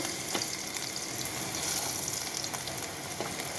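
Shallots fry in a pan with ginger and garlic added, a quiet, steady sizzle with faint occasional clicks and stirs, heard alone without speech.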